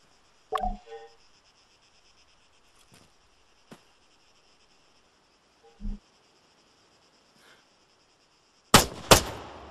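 Rifle gunfire in the video game ARMA III on a quiet range, a few isolated sharp shots spaced seconds apart, then a louder close burst of two rapid shots near the end, with faint insect-like ambience between.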